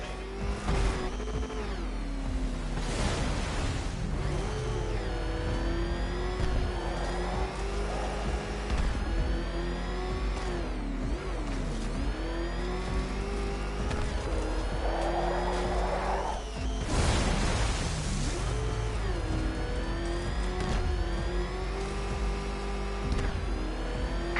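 A car engine in a Batman game revs and drones continuously, loud and steady, with shifting pitch as it accelerates, plus occasional tire screeches and bursts of noise throughout.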